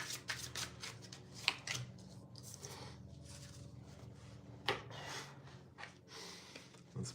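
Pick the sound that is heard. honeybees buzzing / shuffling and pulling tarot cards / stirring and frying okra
shuffling and pulling tarot cards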